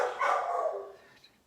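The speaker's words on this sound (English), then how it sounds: "Every time I pick up my phone, he likes to bark." A single drawn-out dog bark or yelp, fairly close and moderately loud, fading quickly with no talking.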